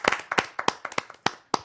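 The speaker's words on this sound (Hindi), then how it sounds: "तो उनके लिए एक बार जोरदार तालियां बज जाएं।" A handful of listeners clap at a Hindi poetry gathering, about a dozen sharp, separate claps in an uneven rhythm, close and fairly loud, with pauses between them.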